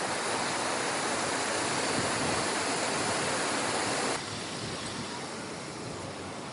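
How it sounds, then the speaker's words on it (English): A waterfall by the river in Florence roars as dense, steady rushing water, loud and continuous, easing slightly toward the end with no voices. "Oh, look, they have a waterfall."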